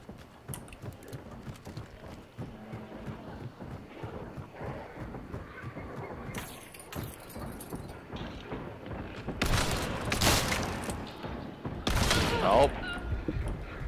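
Gunfire crackles in the distance from a far beach during a Hunt Showdown match at Lockbay Docks, with scattered bursts of shots that grow louder toward the end, heard under ambient game noise and voices.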